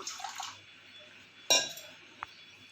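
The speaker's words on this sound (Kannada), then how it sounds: "ಸಕ್ಕರೆ ತೊಯ್ಯುವಷ್ಟೇ ನೀರು ಹಾಕ್ಕೊಂಡು ಪಾಕ ಮಾಡಲು ಇಟ್ಕೋಬೇಕು" Water poured over sugar in a wok to start a syrup for putani burfi: a brief clinking splash at the start, then a sharper pour and a small knock, quiet and close with no talk.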